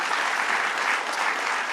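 A crowd at a governor's public announcement event in the Bronx applauds, steady dense clapping throughout, fairly loud and continuous with no clear break.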